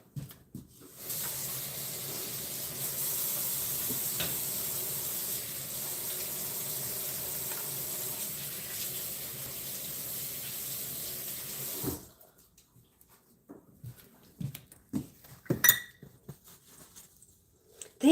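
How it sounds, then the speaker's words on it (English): Hands washed under a running kitchen or bathroom tap: a steady water stream gushes for about eleven seconds, then stops, followed by scattered drips, splashes and handling clatter. "Let me just wash my hands."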